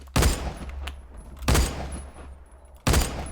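A Scar SSR rifle in the video game Phantom Forces fires three loud, spaced single shots, each a sharp crack with a ringing tail, about one and a half seconds apart.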